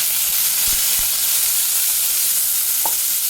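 Mint, coriander and curry leaves sautéing in hot oil for a mutton head curry with bottle gourd, an even, dense sizzle throughout with a couple of soft stirring knocks and a brief clink near the end, close by.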